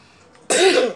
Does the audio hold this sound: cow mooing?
no